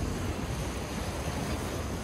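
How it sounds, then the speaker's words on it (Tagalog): Loud, continuous surf roars close by, a dense wash of crashing water with wind buffeting the microphone and no voices. "Ang lalakas ng alon."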